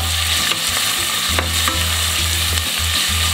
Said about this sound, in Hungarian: És hozzáadom a vöröshagymát, egy fej vöröshagyma